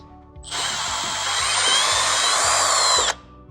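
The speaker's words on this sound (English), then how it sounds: "let me see if this thing is going to drill through" A power drill bores a hole through a raw tomahawk steak, a loud steady whine that starts abruptly, holds for about two and a half seconds with a slight rise in pitch, then cuts off.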